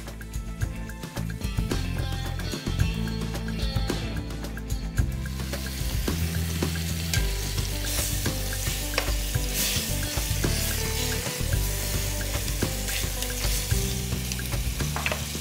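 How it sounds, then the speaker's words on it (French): Pork cheeks browning in a hot pan for honey-confit pork, a loud continuous sizzle with frequent stirring and scraping sounds, no talking. "On les met et on va les faire colorer, ce qu'on appelle, pendant quelques minutes."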